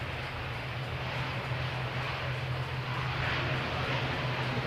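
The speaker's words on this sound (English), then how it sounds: "then he'll throw the reverse thrust again" A landing airliner at CHC roars steadily as reverse thrust is applied, a continuous broadband rumble with a low drone, close and loud throughout with no pauses.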